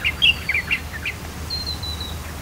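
A migratory bird calling outdoors: a quick run of short, bright chirps followed by a thin, drawn-out whistled note, fairly close over a low background rumble.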